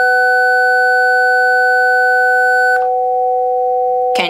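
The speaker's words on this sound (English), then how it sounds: "Play the two sine waves together, one at 500 hertz and one at 750 hertz," Two pure electronic sine tones sound together in a steady, unwavering hum. A brighter, richer chord comes first, then the bare pair continues alone with no talk.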